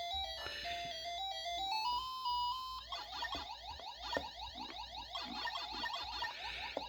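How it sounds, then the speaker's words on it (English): Ms. Pac-Man running on a Namco mini arcade, giving off bright electronic game music followed by rapid repeating chirps and bleeps from the small built-in speaker, steady and moderately loud. "here's Mrs. Pac-Man."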